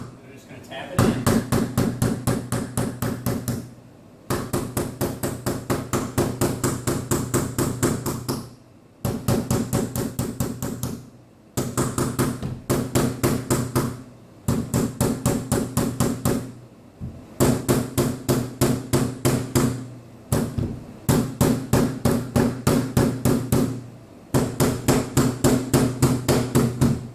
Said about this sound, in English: I'm going to take my rubber mallet. I'm just going to tap it in.